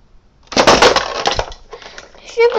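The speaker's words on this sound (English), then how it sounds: "The ship was crashing." A ship crashing in a children's cartoon story, heard as a loud burst of smashing and breaking with glassy clatter that rumbles on for about a second, followed by quieter rattling debris and a final bright crash.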